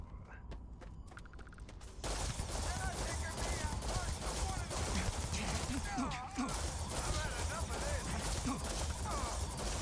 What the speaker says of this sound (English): I am using a laser weapon.